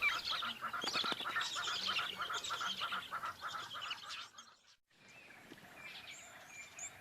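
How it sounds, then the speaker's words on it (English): Small birds chatter and call in a busy feeding flock near resting lions on the African savanna, a dense run of overlapping chirps and squawks that drops away briefly before softer calls resume. "It's a little bird feeding party."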